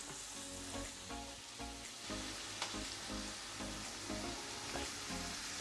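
Chopped onion softening in a pan over medium heat, salted, giving a steady soft sizzle and crackle that runs evenly throughout with small pops and faint stirring scrapes.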